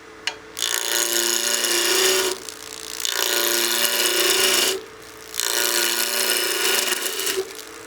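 Wood lathe taking a fast roughing cut on a spindle blank for a gnome Christmas ornament, throwing pencil-sharpener-type shavings: three loud, close, steady rasping passes separated by brief pauses.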